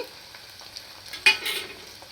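Onions frying in a pan for vegetable biryani give a soft, steady sizzle with light stirring scrapes and one brief louder clatter midway; no talking.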